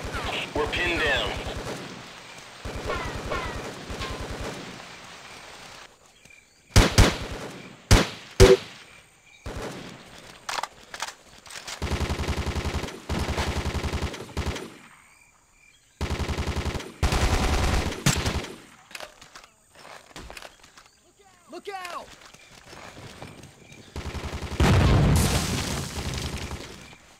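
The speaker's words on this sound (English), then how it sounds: "We're under fire." Gunfire in the tactical shooter Ghost Recon, with loud bursts of automatic fire and booming shots coming in separate clusters broken by short silences, and voices speaking in places.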